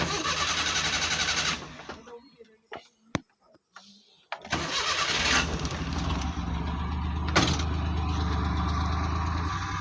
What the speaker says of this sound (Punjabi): ਦੇਖੋ ਜੀ ਆਪਾਂ ਸਟਾਰਟ ਕਰਦੇ ਹਾਂ ਜੀ